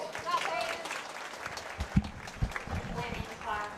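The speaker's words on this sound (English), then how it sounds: "let's give those exhibitors a nice round of applause" An audience at a county fair hog show claps for the exhibitors, a thin scattered applause with a few louder individual claps, heard under a voice talking over a loudspeaker.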